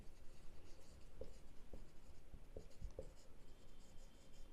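Pen scratching on paper while labelling a statistics graph axis, a few quick strokes and taps, faint and close, in a quiet room.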